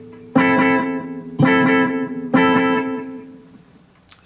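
Three clean electric guitar notes played through a Dano Reel Echo pedal, each a sharp, loud attack trailed by a short echo tail of a couple of repeats, decaying into a soft wash.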